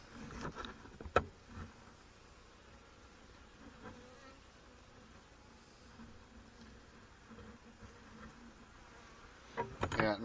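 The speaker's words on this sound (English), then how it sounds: "Yeah, another good bunch of bees there." Honey bees at a hive make a faint, steady buzzing hum through the whole stretch, with a few soft knocks and handling noises near the start and end.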